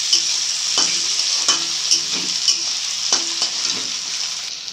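Chopped tomato frying with browned onions for a tadka, an even sizzle with a bright hiss. Intermittent spoon clicks and scrapes mark the stirring, and no voices are heard.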